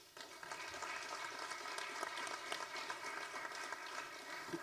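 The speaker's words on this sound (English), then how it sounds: "I'd like to give a round of applause to the law enforcement that keep us safe in the county and in the city" A crowd applauds for law enforcement at a Reno County Commission candidates forum, steady clapping filling the hall for several seconds without a break.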